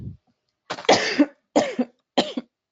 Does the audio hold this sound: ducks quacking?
no